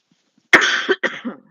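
Two rough, close coughs in quick succession after a moment of silence.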